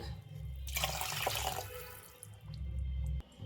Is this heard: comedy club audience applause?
no